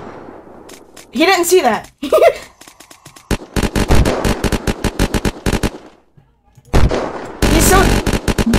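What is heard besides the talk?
gunfire from the video game Unturned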